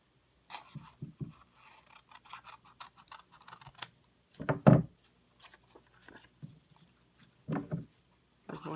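Scissors snip through paper in a few short bursts, cutting the extra rectangle from a paper cone during a children's 3D sculpture craft; the cuts are fairly close, with soft paper rustling between them and no talking.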